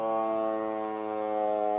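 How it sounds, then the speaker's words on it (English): Loud, sustained fire truck mechanical siren wail, a rich steady tone that dips slightly then swells again, close by with no talking. "Mechanical siren, so it spins and gets real loud like that."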